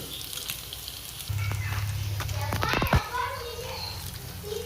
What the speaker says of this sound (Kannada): ಎಲ್ಲ ಈ ಥರ ಲೋ ಫ್ಲೇಮಲ್ಲೇ ನೀಟಾಗಿ ಫ್ರೈ ಮಾಡ್ಕೊಳ್ಳಿ